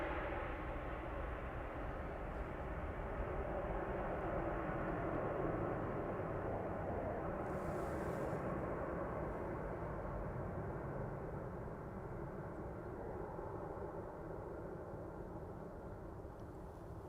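A departing airliner roars down runway 36L at Amsterdam Schiphol, a broad, steady jet rumble held at constant loudness throughout, heard from a distance with no voices.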